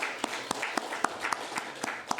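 A church congregation claps during a Korean Sunday worship service, a short burst of scattered, fairly even hand claps at a moderate distance over a soft roomy background.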